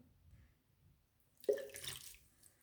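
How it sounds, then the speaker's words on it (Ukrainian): A face is rinsed with water over a sink, using a washcloth: a single short splash and trickle of running water, close and moderately loud, after a quiet pause. "Далі вам це треба все замити водичкою."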